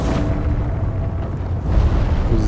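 Deep rumbling blast from an arrow explosion in Dark Souls III's Ringed City DLC, a sustained low roar that surges briefly louder toward the end.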